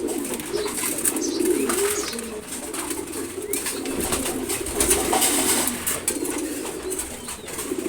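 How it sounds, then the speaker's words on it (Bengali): Domestic pigeons coo steadily in a loft, their soft, throaty calls overlapping close by, with a faint flutter of wings now and then. "খুব পছন্দের একটা কবুতর।"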